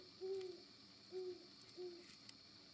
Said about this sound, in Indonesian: Kok ada suara burung ya?